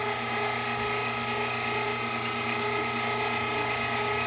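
An electric meat grinder runs steadily and close, its motor and gears whirring with a dense mechanical ratcheting drone as it grinds and mixes chunks of gray hog meat, with no talk.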